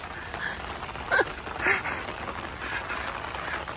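A duck quacks a couple of times, faint and somewhat distant, over a quiet outdoor background while touring in Vancouver.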